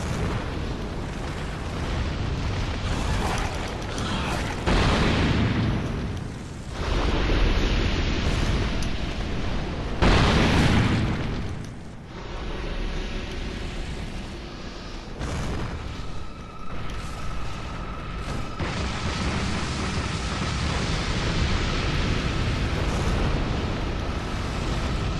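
Pyromancy fire spells from the game Dark Souls 2 explode as a series of deep, roaring booms and whooshing bursts, several loud blasts spaced apart over a rumbling background.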